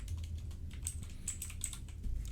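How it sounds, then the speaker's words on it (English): Rapid keystrokes on a computer keyboard as a prompt is typed, a quick irregular patter of close, crisp clicks with no voices. "you can just go ahead and type something like put a payment method in the homepage."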